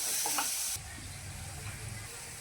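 Fried chili with a pinch of salt and turmeric is stirred in a sizzling pan, a brief burst of hissing and scraping that quickly settles into a softer, steady fry, heard close up.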